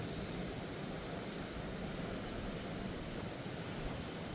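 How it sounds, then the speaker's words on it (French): Stormy sea swell crashing high against the rocky shore at Cap Couronne, Martigues, during storm Jana, a constant dense roar of surf and wind with no break, heard alone. "Là ça envoie valser la vague assez haut."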